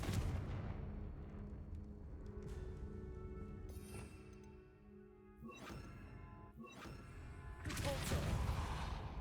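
Confringo fire spell cast in Hogwarts Legacy, heard as a few dull booming blasts over a steady rumbling background, with sharper impacts near the middle and end.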